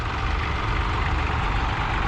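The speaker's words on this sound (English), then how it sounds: "Interesting to see that era of tractors at the show. Ferguson 35 here, folks. Cool wee tractor." A vintage Ferguson 35 tractor with a 4-cylinder diesel engine idles at a farming show in Scone, Scotland, a close, steady low rumble with no speech over it.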